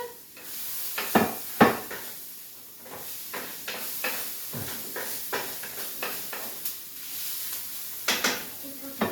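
Garlic tossed into a hot pan with a spinach mixture and stirred, giving a steady sizzle under scraping utensil strokes and a few sharper clinks against the pan, close and moderately loud.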